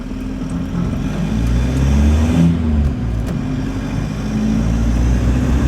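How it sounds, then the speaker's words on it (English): A turbocharged race car accelerates in third gear off boost, its engine a loud, steady low drone heard from inside the car, building slightly without pause. "this is third gear completely out of boost. See how quick it comes in."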